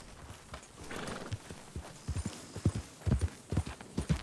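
Horse hooves clip-clop in Red Dead Redemption 2, an uneven run of close, distinct hoof strikes growing denser toward the end, with a brief whinny-like sound early on and no speech.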